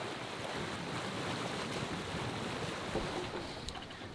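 Monohull sailboat moving slowly through the water, a steady broadband wash of water and wind noise around the hull, continuous and fairly close with no talking.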